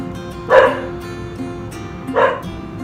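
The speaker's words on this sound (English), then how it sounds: "my dog is barking in the background" A dog barks twice indoors in the background, two short, moderately loud woofs spaced about a second and a half apart over a low steady hum.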